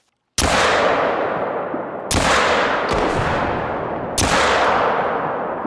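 Three loud pistol shots in theHunter: Call of the Wild, fired during a bison and buffalo hunt, each a sharp crack with a long echoing decay, spaced about two seconds apart with no talking.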